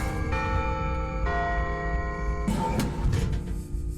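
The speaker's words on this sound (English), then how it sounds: "The clock starts chiming again, and we must make it back to the office." A clock in a Fredbear horror video game chimes loudly with sustained, bell-like ringing tones that overlap and change partway through, followed by a denser, noisier burst of chiming with no speech.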